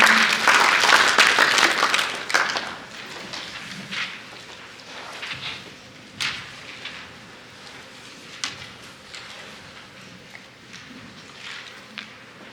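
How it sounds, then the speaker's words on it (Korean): Audience applause at a business seminar on small-business financing, a loud burst of clapping that fades over several seconds into scattered claps, shuffling and room noise. "박수 부탁드리겠습니다"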